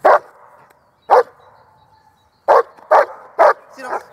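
A police dog barks close and loud in sharp separate barks, two spaced apart and then a quicker run of three, followed by a softer yip.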